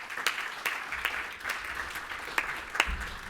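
A modest audience at a Data Security Forum conference welcomes a professor to the stage with light, scattered applause, individual claps standing out over a soft murmur.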